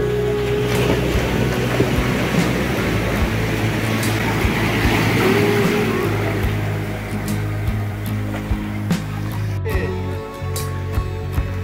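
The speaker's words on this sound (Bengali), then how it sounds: "আর ঢেউগুলো কিন্তু এখানে অসাধারণ।" Sea waves roll onto the crowded beach at Digha as a continuous loud wash of surf with gusty wind noise, close by, with faint crowd sounds underneath.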